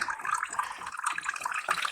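Water runs and splashes from a tight radiator valve into a bowl, an uneven close trickle with fluctuating splashing.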